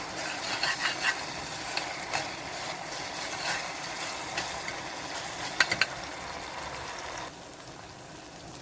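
Tomatoes with chilli and spices roasting in a pan make a low, continuous sizzle with intermittent stirring scrapes and a few sharper clicks, then quiet down slightly near the end.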